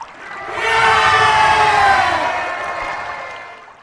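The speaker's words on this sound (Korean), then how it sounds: "북이스라엘과 남유다의 군대는 환호성을 질렀습니다" Ancient armies of northern Israel and southern Judah raise a swelling battlefield cheer as an audio drama effect, a dense roar of many voices building quickly, holding loud, then slowly fading.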